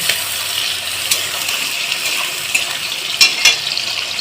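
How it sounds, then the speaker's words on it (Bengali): Mutton frying in a pan until browned, a steady close sizzle with a few light clinks and scrapes of stirring. "এইভাবে আমি একটু বাদামি করে ভেজে নেব"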